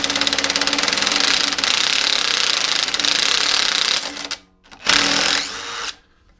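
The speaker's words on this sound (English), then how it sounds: "We'll undo these bolts just here next." Power tool running off the bolts on a Hayter Hayterette lawn mower, a loud, rapid hammering buzz lasting about four seconds, then short, separate bursts as the tool stops and restarts, up close.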